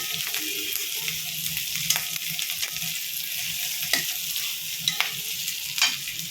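Onions frying in a pan hiss and sizzle steadily while a spoon scrapes and stirs them in repeated strokes, close and without talk.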